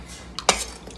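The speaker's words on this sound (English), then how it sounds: "We're going to stir it." Potatoes being stirred in a pot for Haitian potato au gratin, with a soft clink near the start and one sharper scrape and knock of a utensil against the pot midway, then quiet.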